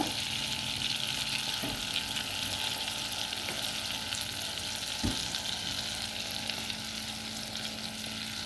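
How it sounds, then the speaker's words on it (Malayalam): Butter melting in a kadai with a little oil for carrot soup, a steady close sizzle with faint frying crackle and a couple of soft clinks. "ശകലം ബട്ടർ ഇട്ട് കൊടുക്കുന്നു ലേശം ഉലുപോയിൽ ചേർക്കുന്നുണ്ട്"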